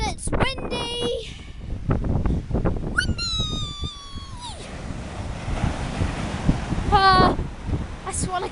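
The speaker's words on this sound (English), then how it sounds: "Sorry about the wind." Wind buffets a beach while waves wash in the background, with people talking and animal-like squeaks cutting through at moments.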